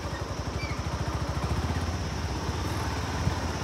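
A motorbike rides over a rough, bumpy road in Lamjung district, its engine close and steady with a fast, even pulsing throb throughout and no talking.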